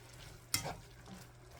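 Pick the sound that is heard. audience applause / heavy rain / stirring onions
stirring onions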